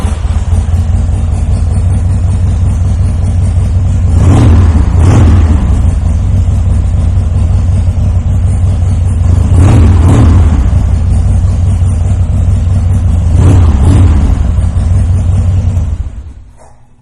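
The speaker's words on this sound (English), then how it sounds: "As you can hear, that exhaust sounds fantastic on this Wide Glide." A 2003 Harley-Davidson Wide Glide fitted with a Screaming Eagle exhaust idles with a steady, deep low rumble, swelling in three brief throttle blips before cutting off at the end; no voices.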